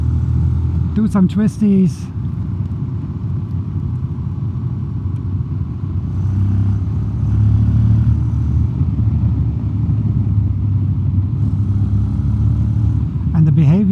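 A Honda X-ADV 750 scooter ridden in sporty mode: a steady engine and wind rumble runs throughout, with someone talking over it.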